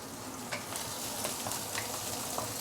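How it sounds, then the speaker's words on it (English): Ginger, garlic and shallot sautéing in a pan, a soft continuous sizzle with faint scraping stirs, quiet and close with no voices. "So let's saute this for a minute or two before we continue."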